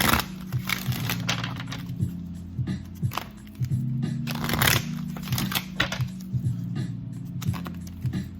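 Tarot-style Wisdom of Oracle cards shuffled by hand in repeated riffling bursts, soft papery flutters and taps, close and steady throughout with no voice over them.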